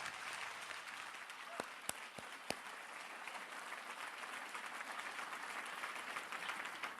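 A seminar audience gives a round of applause, a faint, steady wash of many hands clapping with a few sharper isolated claps near the start, continuing evenly to the end.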